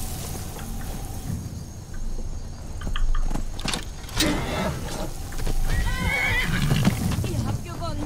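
In the video game Skyrim, a horse lets out a clear whinny amid hoof clops and game sounds, while someone talks over the action.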